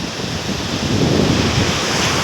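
Bay of Bengal waves break and wash onto an eroded beach, a loud, continuous roar of surf mixed with wind buffeting the microphone, with no voices.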